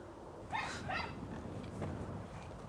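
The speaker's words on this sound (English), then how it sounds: "Oh, there's another dog in this garden." A dog in a garden gives two quick, close barks, then softer whimpering yips trail off over a low outdoor background.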